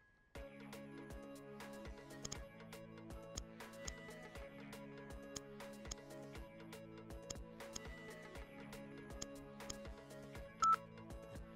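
Telephone dialing tones from someone placing a call on a game show, a series of steady beeps and tones repeating in a regular pattern, fairly loud, with occasional sharp clicks.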